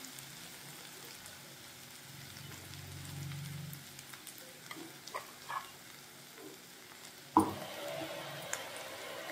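Gongura (sorrel leaf) paste is stirred into a meal maker (soya chunk) curry frying in a pan. A soft, faint sizzle runs steadily, with scattered light scrapes and clinks and one sharper knock near the end.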